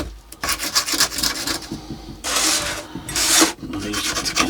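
Sieved bonsai soil scooped into a brass pot for a small Chinese elm, heard as close, gritty scraping and pouring rasps in uneven bursts with brief pauses, no voices.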